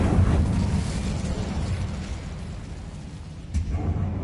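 A fire spell cast in Hogwarts Legacy: a loud, sustained rushing whoosh of flame with rumbling low end that eases off, then a fresh burst near the end.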